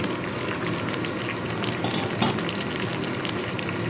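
Fried potatoes and cauliflower hiss and crackle in a pan as they are cooked with chicken, a steady dense sizzle throughout with no talking.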